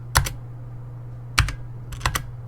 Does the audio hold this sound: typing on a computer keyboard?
yes